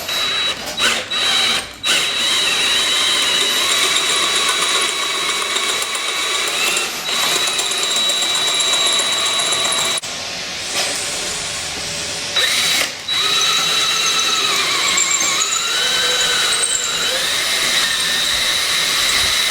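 A power drill grinds steadily into metal, drilling out a snapped-off exhaust stud, a continuous high whine with brief pauses and restarts, close and loud.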